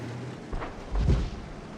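World of Tanks tank gun firing in battle, a short sharp report followed moments later by a heavier deep boom with a brief rumbling tail, fairly close and alone.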